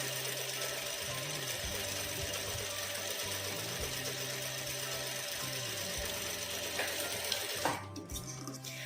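A sewing machine runs steadily through a stitching session, its motor humming with a rapid mechanical needle rhythm that slows and speeds slightly, then stops near the end with a few clicks.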